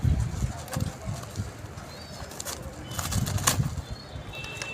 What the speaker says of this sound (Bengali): আমার বাড়ি মেন পায়রার বাচ্চা বলতে পারো এগুলো।